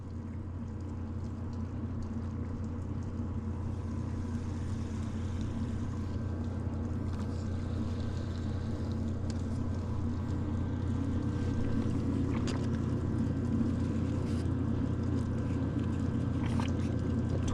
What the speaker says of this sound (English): And we got a boat coming in on us.